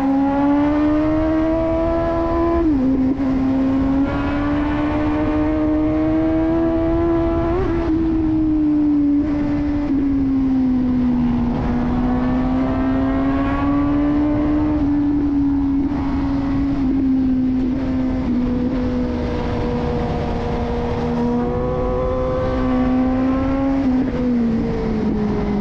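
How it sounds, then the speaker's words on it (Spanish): A Suzuki GSX-S 750 four-cylinder motorcycle engine hums steadily while riding, its smooth tone rising and dipping with throttle and gear changes, close and alone without talk. "definitivamente ese motor de cuatro cilindros y suena una"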